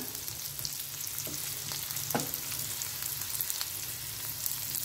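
Spring onion whites frying in a pan for homestyle chicken thukpa, a steady close sizzle with a few soft stirring scrapes and no talking.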